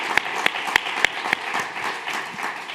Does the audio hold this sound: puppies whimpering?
no